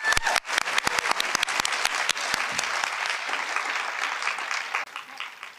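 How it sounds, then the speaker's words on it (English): An audience applauds at an awards ceremony, with dense, steady clapping that starts with a few sharp claps and fills the room before tapering slightly at the end. "Can we get another round of applause?"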